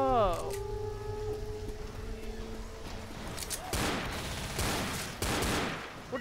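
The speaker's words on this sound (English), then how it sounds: "What are they shooting at?" Gunfire in the zombie co-op shooter Left 4 Dead: a burst of loud, rapid shots around the middle and near the end, with players talking over it and game ambience throughout.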